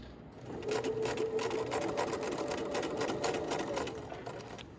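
A sewing machine stitches fabric for a tote bag seam, a fast steady mechanical whir and needle chatter running close up for several seconds without speech.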